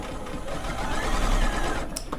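A sewing machine fitted with a straight stitch needle plate runs in a steady, even whirring hum, close and continuous, sewing a quilt top, ending with a brief click.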